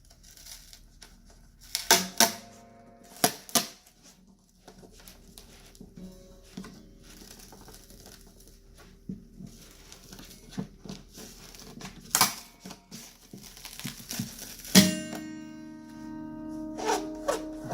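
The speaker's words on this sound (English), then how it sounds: "you just very slowly, with a back and forth motion, if I can do this without cutting my fingers on this line, real thin motion" A thin line sawed slowly back and forth through the glue under a guitar pickguard gives sparse, close scraping and crinkling rasps that come in irregular bursts with quiet gaps between them.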